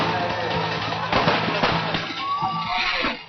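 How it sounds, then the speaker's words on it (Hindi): Diwali fireworks in Jaipur crackle and pop in a dense, irregular barrage, with a crowd murmuring and voices underneath. "जयपुर में रंगारंग आतिशबाजी की गई"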